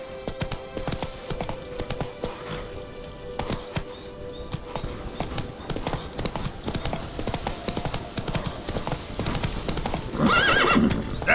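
Roach, the horse in The Witcher 3 video game, gallops with a fast, continuous clip-clop of hooves over ambient game sound, ending with a loud whinny near the close.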